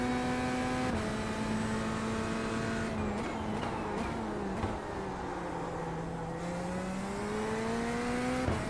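A Porsche race car in the iRacing sim hums with a steady engine drone whose pitch dips and climbs through shifts and cornering, heard continuously and close from the cockpit, with no talking.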